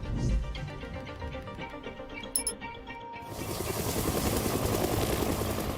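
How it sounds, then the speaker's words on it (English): A North Carolina Forest Service firefighting helicopter works over a private lake near Saluda during wildfire operations. Its steady, loud rotor and engine roar swells into a broader rush partway through. "North Carolina Forest Service helicopters every few minutes rotate down to a private lake outside Saluda"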